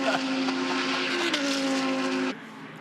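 A Porsche GT race car at Phillip Island during a GT World Challenge Australia race gives a loud, sustained engine drone whose pitch dips briefly partway through, then cuts off abruptly near the end.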